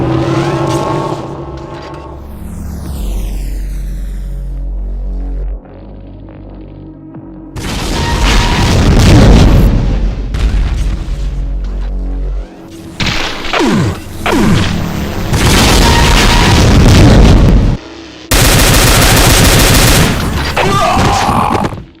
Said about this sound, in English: barrages of BFG 10K shots, twice the Demon Tech BFG shots